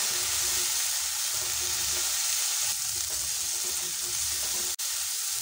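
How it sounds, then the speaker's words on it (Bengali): Cumin and chili powder fry in a pan for an egg curry, giving a loud, continuous sizzle with light stirring scrapes underneath and one sharp tap near the end. "এবার আর কিছুক্ষণ কষিয়ে নেব।"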